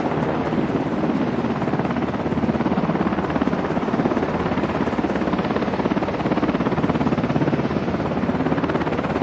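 Helicopters returning from a flight along the southern border near Eagle Pass, Texas, make a loud, continuous rotor thump and engine roar throughout, steady and close, with no voices.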